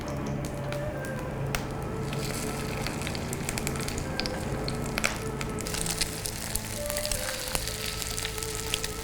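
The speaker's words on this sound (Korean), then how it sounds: "계란물을 묻힌 이 깻잎을 제가 올려보도록 하겠습니다." Perilla leaves coated in egg batter sizzle steadily in a hot oiled pan, a continuous dense frying crackle with sharp pops throughout and no talking.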